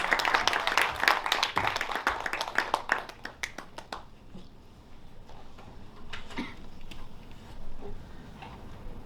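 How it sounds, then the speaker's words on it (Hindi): Enthusiastic audience applause at a Hindi/Urdu mushaira welcoming a poet: dense, loud clapping for about four seconds, then thinning to scattered claps that trail off into quieter room sound. "जोरदार तालियों से इस्तकबाल कीजिए सदानंद बेंद्रे मुसाफिर साहब का"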